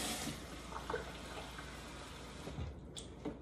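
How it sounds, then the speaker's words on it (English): Water is poured into a pot while making lemon chicken and rice soup, a soft, continuous splashing trickle, quiet and close, with no talk. "I will usually add a little bit of water"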